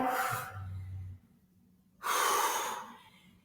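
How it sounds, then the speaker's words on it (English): Heavy exhalations during a HIIT and yoga workout: two long, breathy outbreaths close to the microphone, separated by a short near-silent pause, with a faint low hum under the first. "we're breathing in and we're breathing out"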